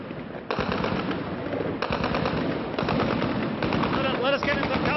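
Sustained anti-aircraft gunfire from the Iran-Iraq war, loud rapid bursts of automatic fire rattling continuously in overlapping volleys, with distant shouting voices mixed beneath.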